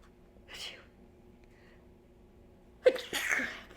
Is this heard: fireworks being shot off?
no